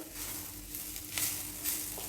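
Alu vadi, fritters of colocasia leaf, fry in tempering oil with a faint, steady sizzle and soft crackle, broken by a couple of brief louder pops.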